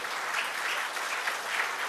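An audience at a piano recital claps to welcome the pianist, a steady, even sheet of applause, somewhat distant and soft, with no voices over it.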